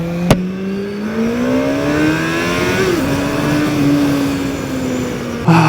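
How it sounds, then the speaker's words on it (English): A QJMotor SRK921RR sport motorcycle accelerates hard on a street, its loud, close engine climbing steadily in pitch through the gears in one sustained roar with no talk over it. "you can actually feel the speed and the acceleration and the power of this beast."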